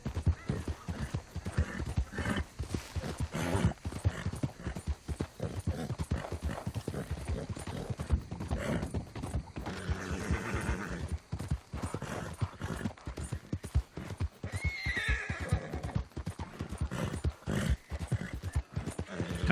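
Horse hooves clip-clop steadily at a walking pace in the video game Red Dead Redemption 2 in the town of Saint-Denis. The hoofbeats are fairly close and continuous, with a brief whinny partway through.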